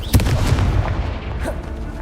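A Confringo blasting spell from Hogwarts Legacy detonates in a sharp, loud boom, followed by rumbling impacts and a second smaller burst, with dense game combat effects behind it.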